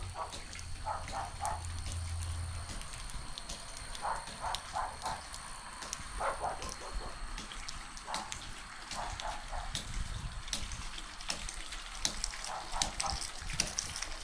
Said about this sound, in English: It's using water hammer to pump water without electricity